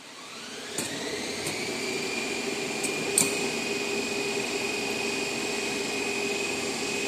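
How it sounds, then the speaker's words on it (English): An electric motor in a Hopkinson's test starts through a 3-point starter and spins up, its steady whine rising in pitch and settling into a constant hum, with a few faint clicks early on. "The motor is started with the help of 3-point starter."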